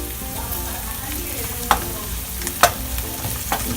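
Garlic frying in a pan gives a steady, close sizzle, with a few sharp clinks of a utensil against the pan as it is stirred.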